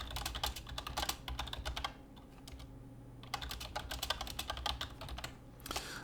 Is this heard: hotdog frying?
no